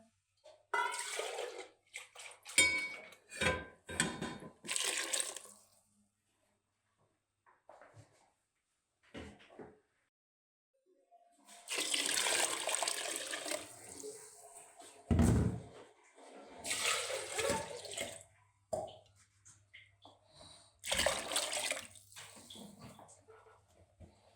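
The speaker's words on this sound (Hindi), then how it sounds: "अब इसके अंदर और पानी डालेंगे हम।" Water pours in bursts with clattering kitchen sounds and pauses between, ending in a steady stream splashing into a cooking pot for kadhi pakora; no talking.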